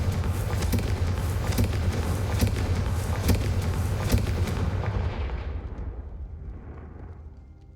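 The Confringo fire spell in Hogwarts Legacy sets off a dense, loud barrage of booming fiery blasts with sharp cracks, rumbling steadily before fading out over the last few seconds.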